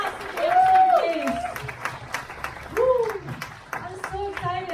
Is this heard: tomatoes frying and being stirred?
no